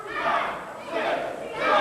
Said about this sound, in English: Crowd getting behind TKO.